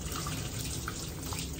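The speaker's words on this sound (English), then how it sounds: "To rinse off the shampoo, again, I put my hose all the way down to the skin" A hose spraying water down to the skin to rinse shampoo from a Pomeranian's coat in a tub, producing a steady, dense hiss of running water throughout, close and even, with no talking.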